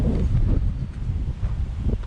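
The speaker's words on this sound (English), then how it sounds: "It's windy" Steady wind on the North Wales coast buffets the microphone with a low, rumbling roar that rises and falls throughout, among fields with sheep.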